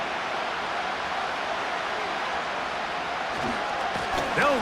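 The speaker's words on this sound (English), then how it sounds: "The Buffalo crowd being heard before 3rd down." Stadium crowd noise from a Buffalo home game in the Madden 26 football video game, a steady loud roar filling the whole stretch, with a commentator's voice rising over it near the end.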